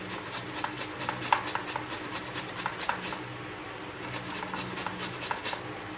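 A boiled potato is crushed by hand into a besan paratha dough mixture, a soft, close, irregular squishing and rubbing in short repeated bursts with some quieter pauses.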